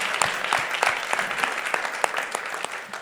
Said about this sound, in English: Clap it up for Chris one time.